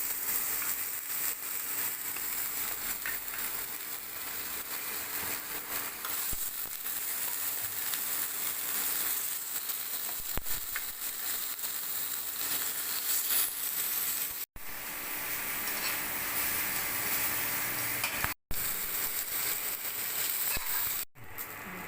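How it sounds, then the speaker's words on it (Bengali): Raw banana slices fry in hot oil in a pan, a steady dense sizzle running close and loud throughout with a few brief dropouts near the end. "কলাগুলো ভালো করে ভেজে নিয়েছি"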